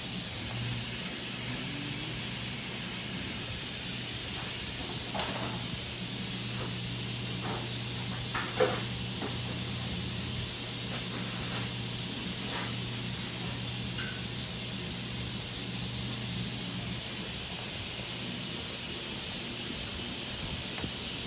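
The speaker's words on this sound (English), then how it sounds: "spray down your new rotor with some brake cleaner" A steady aerosol spray of brake cleaner onto a new brake rotor for a 2009-2017 Dodge Journey hisses continuously for a long stretch, with faint clicks and knocks in the background and no speech.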